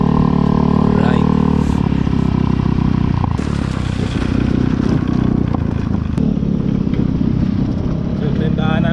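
A Yamaha Mio Gravis scooter on a test ride over a bumpy, potholed road, its engine droning steadily with clattering rattles and rough thumps, close and loud throughout.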